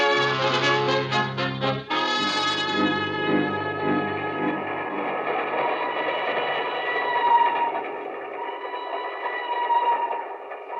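Train running on tracks as a radio drama sound effect, a swaying train crossing a mountain chasm in Nigeria near midnight; a steady, continuous rumble with tonal layers, held loud throughout with no talk.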